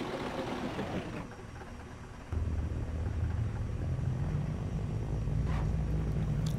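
A toy airplane engine from the Dreamcast game Toy Commander drones steadily through the whole stretch, dipping slightly early on and then settling into a louder, even low rumble with no talking over it.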